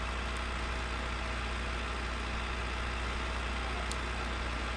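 Steady idling drone of a tractor engine in Farming Simulator 15, constant and loud with a low rumble throughout and no talk.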